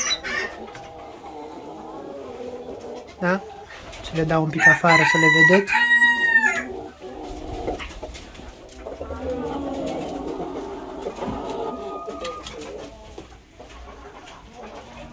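Blue Brahma chickens, three hens and a rooster, with one loud, drawn-out fowl call rising mid-clip between stretches of someone talking and low background clucks.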